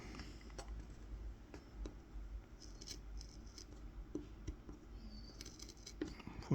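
A knife scores a groove into a wooden spoon for kolrosing, making quiet, close scratching and ticking cuts in irregular strokes, faint and intimate.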